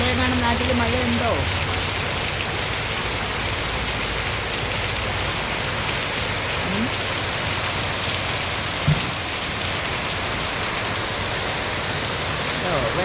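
Heavy rain pours down at an auto-rickshaw stand, a dense, continuous hiss of drops on surfaces with running water, steady and loud throughout with a few faint background knocks.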